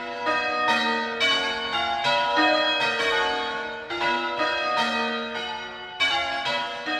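Church bells in the village of Burnham, Buckinghamshire peal continuously in a steady, overlapping sequence of bright strikes with long ringing decay, loud and close, with no voices.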